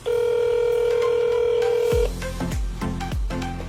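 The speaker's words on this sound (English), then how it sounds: "So we're gonna call this place right now" A phone gives a steady dial tone, then a rapid series of separate keypad tones as a number is dialed, loud and close, with no talking.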